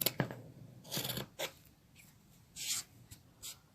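Scissors trimming the corner and edges of a homemade fabric mask, a few separate close snips and rustles with pauses between cuts.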